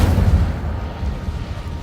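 A fire spell cast in a Hogwarts video game gives a loud, low rumbling whoosh that is strongest at the start and sustains at a steady level, with no voices over it.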